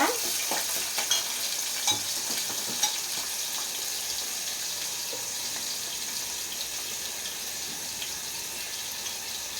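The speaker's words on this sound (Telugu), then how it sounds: "వెత్తకొళంబు కోసం వెల్లుల్లిపాయలు వేస్తున్నాను." Garlic frying in a pan for vatha kuzhambu gives a steady close sizzle throughout, with a few sharp spatters and stirring clicks early on and no voices.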